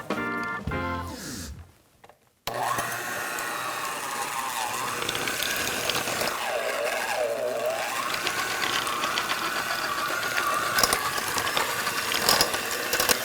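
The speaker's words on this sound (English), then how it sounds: "now we're gonna hook up my 1970s mixer" A 1970s electric mixer beats cream cheese for a buffalo chicken dip, giving a steady, close motor whine with gear rattle whose pitch rises and dips as the beaters work, preceded by brief sounds and a short silence.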